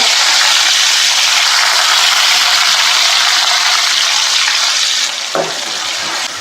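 Chopped shallots and curry leaves sizzle loudly and steadily in hot oil with mustard seeds, a dense close frying hiss that eases slightly near the end after a brief stir.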